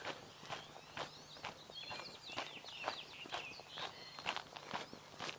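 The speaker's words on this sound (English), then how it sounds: "Quite a cacophony of bird sound." Several birds of at least three kinds chirp and trill overlapping in the background while regular footsteps crunch along close by at a walking pace at the edge of a golf course.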